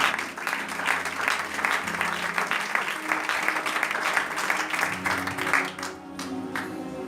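A church congregation applauding the Lord: steady, full-room clapping that continues throughout, easing slightly near the end, with a faint voice beneath.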